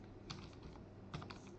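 Quiet, quick keystrokes on a computer keyboard, two short bursts of typing heard alone and close.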